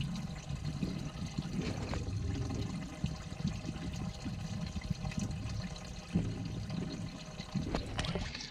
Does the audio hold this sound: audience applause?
no